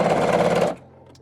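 A sewing machine stitches a seam joining two quilt patches, a fast, close mechanical whir lasting under a second before stopping.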